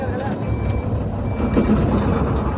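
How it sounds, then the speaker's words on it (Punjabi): A hooter alarm fitted on a harvester machine beeps in a steady repeated tone over the loud rumble of the running engine, heard close by. "ਤੇ ਜੋ ਆਪਣਾ ਹੂਟਰ ਲਵਾਇਆ ਤੇ ਮਸ਼ੀਨ ਦੇ ਵਿੱਚ ਆਵਾਜ਼ ਦਾ ਦੇਖੋ ਆ ਰਹੀ ਟੀਂਡੀ ਆਵਾਜ਼"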